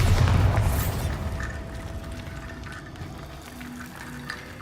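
A Bombarda spell explosion in the Hogwarts Legacy video game, heard as a loud boom at the very start that fades into a rumbling tail inside an echoing tomb, with faint game effects and no talk.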